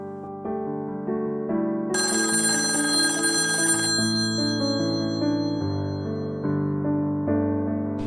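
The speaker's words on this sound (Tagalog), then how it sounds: "nag-aabang din ako na mag-ring itong rotary phone" A rotary phone rings with a bright, bell-like melodic pattern of tones that shift in pitch, loud and close, continuing steadily with no voices.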